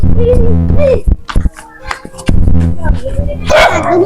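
A dog barks a few times amid excited children's voices and adult talk nearby.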